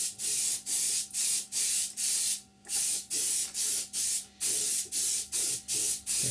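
Airbrush or spray can laying a light first coat of paint on an Academy F-16I Sufa model aircraft kit, heard as a series of short, close hissing bursts in a steady rhythm with brief gaps between them.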